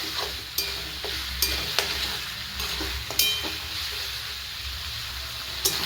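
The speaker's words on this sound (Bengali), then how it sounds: "এই যে কুচনো গাজর, বিনস আর ক্যাপসিকাম দিয়ে এগুলোকে একটুখানি কিছুক্ষণ নেড়ে চেড়ে ভাজবো" Chopped carrots, beans and capsicum stir-frying in a one-pot chicken meal, a steady close sizzle broken by repeated sharp scrapes and knocks of a spoon against the pan.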